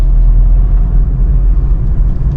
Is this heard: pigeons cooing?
no